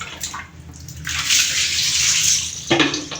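Hot water pouring from a tap into a bath while a dog is washed, a loud, close rushing splash that starts and stops, running steadily for a couple of seconds without talk.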